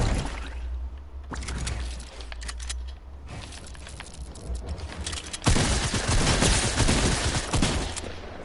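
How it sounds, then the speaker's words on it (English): Shotgun blasts ring out in a fast-paced online shooter, loud bursts of gunfire coming in rapid clusters with a dense barrage toward the end. "I'm just using a shotgun, I swear that I'm just using a shotgun."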